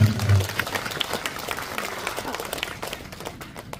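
An audience at a public meeting addressed by the Jonai MLA claps for Prime Minister Modi, a dense burst of applause that fades gradually over several seconds.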